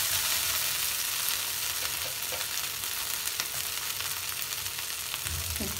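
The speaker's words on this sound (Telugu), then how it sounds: "గోరుచిక్కుడు మొత్తం ఫ్రై అయింది ఫ్రెండ్స్" Cluster beans frying in a pan for a sesame curry, giving a loud, steady, dense sizzle that holds evenly throughout with faint crackles and no voices.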